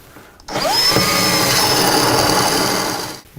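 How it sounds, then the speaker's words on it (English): A power drill whines steadily for about three seconds while drilling into drywall for a toggle bolt, its pitch rising as it spins up, then cutting off abruptly; loud and close. "we are drilling for the toggle bolt"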